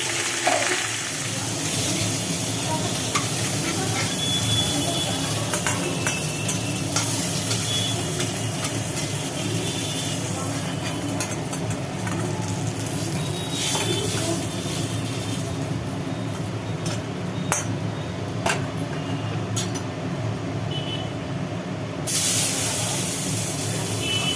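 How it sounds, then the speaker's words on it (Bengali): Small live rohu fingerlings bought from the market frying slowly in hot oil, a steady dense sizzle and crackle running throughout at close range with occasional sharper pops, no speech. "এই মাছগুলোকে ভাজা হচ্ছে মাছগুলো ভাজা হোক আস্তে আস্তে"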